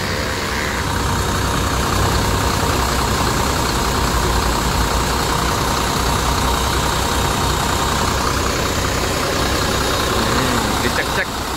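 A Scania truck engine idles loud and close in a steady, dense rumble that never lets up, with people talking faintly underneath at a crowded depot.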